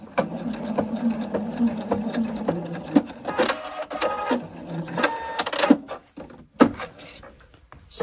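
A home sewing machine stitches a waistband on children's harem trousers toward the side seam, its rapid motor whir and needle clatter running in bursts with pauses and clicks between, close up.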